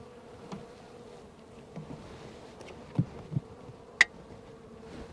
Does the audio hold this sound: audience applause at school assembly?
no